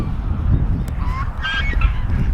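Farm ducks honk and quack with nasal calls over heavy low rumbling outdoor noise, a few calls rising near the middle of the moment, moderately close and without talking.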